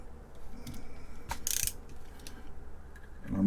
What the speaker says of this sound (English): I'm not going to ratchet these super tight, but I am going to put just a little bit of torque on each one